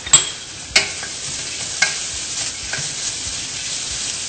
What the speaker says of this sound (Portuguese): Um pouquinho desse óleo, então, vamos refogar a cebola e o alho.